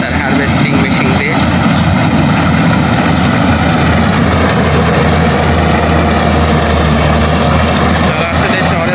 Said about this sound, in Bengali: আলাউদ্দিন ভাই ধান কাটতেছে তার হারভেস্টিং মেশিন দিয়ে